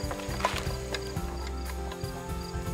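A nut on a BCS tractor mower blade is tightened with a ratcheting tool, giving a close, steady run of mechanical clicks and metallic ratchet ticks.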